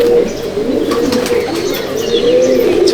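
Pigeons coo steadily in a loft at Halisahar, a continuous throaty murmur close by, with faint chirps and wing rustles scattered through it.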